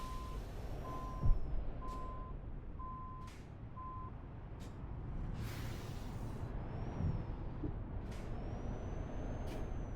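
A truck in a driving video game gives several sharp, brief air-brake hisses, spaced irregularly, while a steady reversing beep repeats for the first few seconds over a low engine hum.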